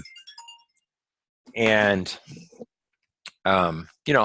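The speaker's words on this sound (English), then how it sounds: "Sorry, that's my phone ringing." A mobile phone rings with a few short, bright electronic tone bursts at the start, then stops while someone talks over the quiet that follows.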